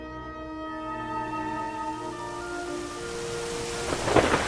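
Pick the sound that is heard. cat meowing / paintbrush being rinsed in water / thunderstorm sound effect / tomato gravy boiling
thunderstorm sound effect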